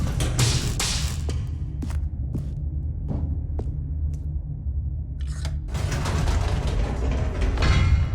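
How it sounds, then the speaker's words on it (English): Elevator machinery in The Stanley Parable grinding back upward, a loud mechanical rumble with ratcheting clicks and scattered clanks and thuds, swelling near the end, with no voices over it. "Stanley actually got back into the elevator and went back up."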